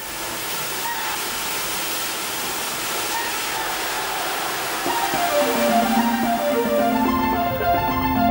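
Water pours out of the Risco Liso mountain water gallery into a ravine in the Caldera de Taburiente national park on La Palma, a steady rushing roar that swells louder partway through.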